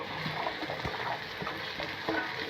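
Okra is stir-fried in a pan with spiced peanut masala, a steady close sizzle broken by scraping stirs of a spatula, with no one talking.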